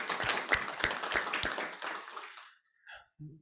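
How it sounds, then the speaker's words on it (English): Audience applause closing an investment pitch session, a short burst of clapping with a few distinct strong claps that fades out after about two seconds, followed by quiet. "Let's give a round of applause to Ekaterina and her brilliant project."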